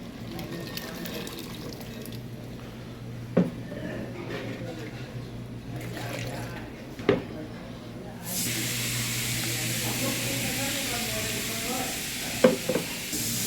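Ground masala paste is stirred as it fries in a pan for a dried fish curry, with a steady low sizzle, scattered scraping taps of the spoon, and a louder hissing rush in the second half.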